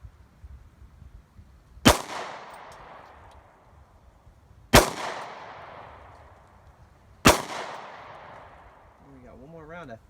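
Three sharp shots from an M&P Shield 9mm pistol loaded with aluminum-cased ammunition, spaced a few seconds apart outdoors, each a loud crack with a ringing decaying tail, quiet background between.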